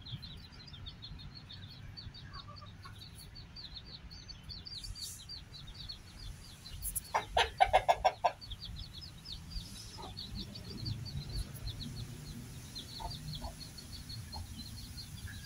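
Chickens and small chicks in a Thai farmyard cheep and cluck softly and continuously, with a brief louder burst of clucking midway, faint against outdoor background noise.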